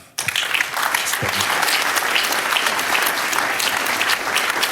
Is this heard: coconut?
no